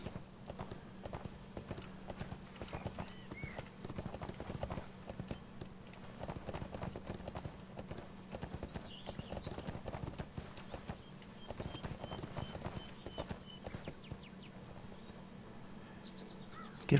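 Steady clip-clop of horse hooves in the game ArcheAge, in a quick, even rhythm, moderately close, with a constant low hum beneath and a few faint clicks.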